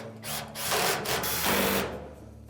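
A power drill drives retaining screws into an LG dryer during a drive motor replacement, a close, steady whirring run lasting about two seconds with a slight rise and dip in pitch.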